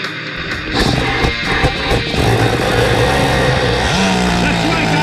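The 15SS nitro motor of an HPI Nitro MT RC truck runs with a buzzing, rattling drone that rises and settles, loud and close, while someone talks over it.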